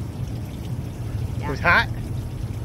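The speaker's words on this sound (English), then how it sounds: "And out the side of the hill, water's coming out." Hot spring water gushes from the side of a hillside in Hot Springs, Arkansas. It makes a steady, close, low wash throughout, and a short burst of speech rises briefly over it.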